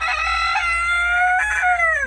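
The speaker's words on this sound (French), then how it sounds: "Ça, c'est le coq qui est super content," A backyard henhouse rooster crows nearby, one loud drawn-out cock-a-doodle-doo with a falling tail, clear and alone.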